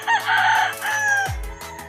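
Ten-month-old Super Sweater gamefowl stag crowing once, a loud close cock-a-doodle-doo lasting over a second, ending with a low thump.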